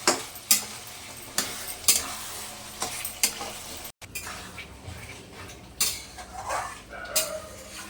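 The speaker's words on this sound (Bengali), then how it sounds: "মাংসটা প্রায় কষানো হয়ে গেছে, এই যে তেল ছেড়ে গেছে। একটু নাড়াচাড়া করি" Mutton curry, its oil separating, fries in a pan while a utensil stirs it: repeated loud clattering scrapes against the metal over a continuous close sizzle, with no speech.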